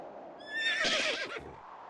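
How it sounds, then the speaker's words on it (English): A horse whinnies in a video game, one loud, close, quavering neigh lasting about a second, rising over a quiet background hum. "I heard a horse."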